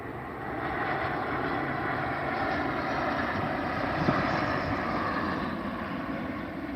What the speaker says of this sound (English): Oh, look at this plane.